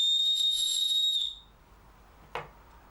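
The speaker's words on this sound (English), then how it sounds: "Maybe having a whistle on it could be dangerous." A shrill, steady blast from a small whistle built into a Para Claw clone knife sounds loud and close for about a second. A single brief knock follows it.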